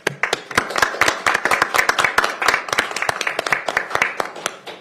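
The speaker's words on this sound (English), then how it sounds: "Let's give them a round of applause." A small audience in a county council chamber claps during a Park and Rec Month proclamation. The claps are sharp, distinct and close, a brisk uneven patter lasting several seconds with no talking.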